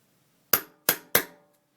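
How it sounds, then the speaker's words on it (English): Three sharp hammer strikes setting a metal eyelet on a corseted artist's trading card, evenly spaced about a third of a second apart, each a crisp close metallic tap with a short ringing decay, in an otherwise quiet room. "hammer it down, and then I just use the rounded side of my hammer to kind of smooth it"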